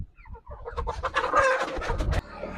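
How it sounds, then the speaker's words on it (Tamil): A black chicken (karunkozhi) clucks close by in a quick run of sharp, loud calls that starts sparse and grows busier before breaking off, with no talk over it. "அருமையான கருங்கோழி"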